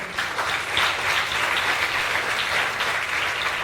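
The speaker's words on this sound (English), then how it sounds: "Can you clap for Makerere University?" Steady, dense clapping from an audience at a university app launch in Uganda, sustained and close, with no voices over it.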